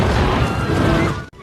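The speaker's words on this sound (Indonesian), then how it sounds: "kolonel lantas meluncurkan rudalnya ke akar pohon raksasa" A film missile explodes against giant tree roots, a loud, dense, sustained blast with crashing debris that fades and then cuts off sharply near the end.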